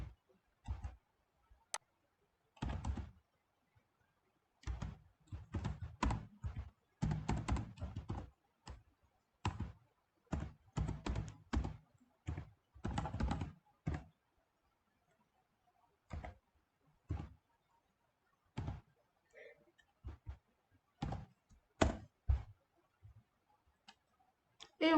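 Someone types a terminal command on a computer keyboard: bursts of quick, close key clicks in irregular clusters, separated by short pauses, with no voices.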